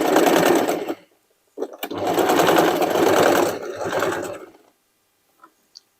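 A sewing machine stitches sweatshirt fabric and denim scraps into a dress, running in two close, loud bursts of rapid whirring, about one second and then about three seconds long, separated by a brief pause.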